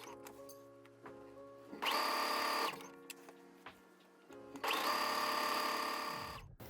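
Sewing machine zigzag stitching through stacked bralette layers, two loud bursts of steady mechanical whirring with a quieter idle pause between them.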